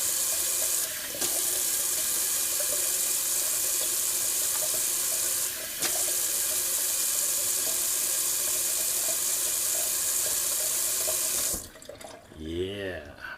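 Cold water runs steadily from a bathroom tap for a face rinse after a wet shave, a constant close hiss that breaks off near the end.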